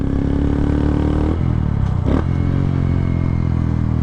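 A motorcycle engine drones steadily in third gear while being ridden, a loud continuous close hum with a brief dip and clatter partway through.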